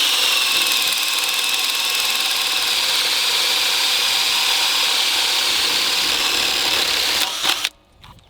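A Ryobi 18-volt impact driver sinks screws into wood in one loud, continuous rattling burst that holds for about seven seconds, then cuts off abruptly, leaving near silence.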